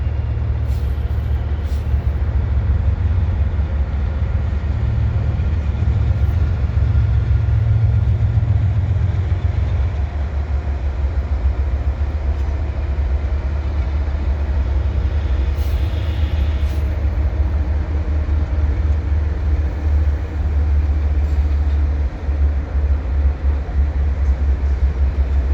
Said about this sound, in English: So this is a particularly long CP train, so I guess that's why you have this DPU at the end as well.